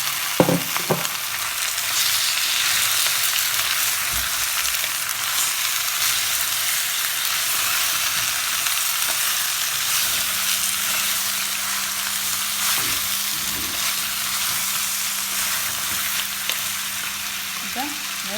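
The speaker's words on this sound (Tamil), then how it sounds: "இப்போ வெங்காயம் எல்லாம் வதங்கிட்டு வடிவா நான் இதுக்குள்ள இப்போ நண்டை போடுறேன்." Crab fries in a pan with sautéed onions, giving a loud, steady hissing sizzle that lasts throughout, with a few scraping stirs at the start and a faint low hum partway through.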